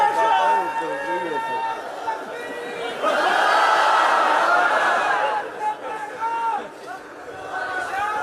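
Crowd at a religious gathering in Punjab raising a loud burst of collective chanting and shouting in the middle of the clip, with murmuring and a speaking voice before and after.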